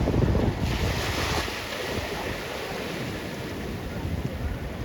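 Ocean waves crash onto the shore at high tide, a loud continuous wash of surf with heavy wind buffeting the microphone, strongest at the start and then settling into a steady roar.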